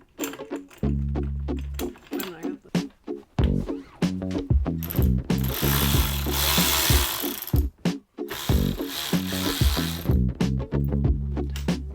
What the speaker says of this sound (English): Next step is just going to be putting it up and getting all the bolts in